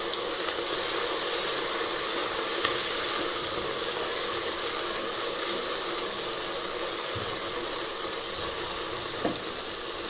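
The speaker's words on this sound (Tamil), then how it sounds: "மூடி போட்டு தக்காளி வெங்காயம் நல்லா வதக்க விடுங்க, நல்லா வதங்கி வரட்டும்." Tomatoes and onions sauté in a covered pan for brinjal biryani, giving a steady, fairly loud frying hiss throughout with a few faint clinks and stirs, no voices.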